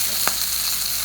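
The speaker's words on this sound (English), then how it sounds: "I'm gonna take one of the steak pieces. Ooh, into the hot." A piece of beef shin steak hits a hot pan and sizzles steadily, a loud broad hiss filling the short moment with a small thump as it lands.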